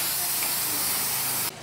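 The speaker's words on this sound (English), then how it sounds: "Spray adhesive right there to adhere it to the piece so I can put it on my bandsaw." A steady spray of aerosol spray adhesive hisses close by for over a second, then cuts off abruptly.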